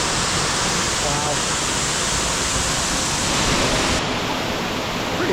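Water from an underrated waterfall in Bali pours into a creek as a dense, steady, broadband roar that stays loud and unbroken throughout, with no voices.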